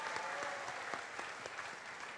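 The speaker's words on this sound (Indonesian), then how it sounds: "tepuk tangan yang meriah untuk keempat pasangan ini" Audience at the first debate between mayoral and deputy mayoral candidate pairs in Padang Panjang claps for all four pairs, a steady dense applause with scattered sharper claps throughout, heard from within the hall.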